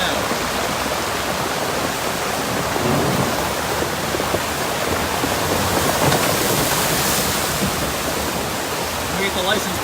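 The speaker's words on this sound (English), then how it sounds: "torrential flood of water coming down" Torrential floodwater rushes down a street in Bangor, propelling small rocks along, a loud steady roar of churning water that fills the whole scene without letup, with a car splashing through nearby.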